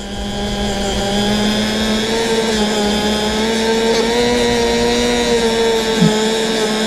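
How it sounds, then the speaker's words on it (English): A motorized polishing wheel buffing a Hot Wheels toy car gives a steady, loud, close tonal whine that holds unbroken throughout with no talking. "I am going to hit it with this wheel, the polishing wheel"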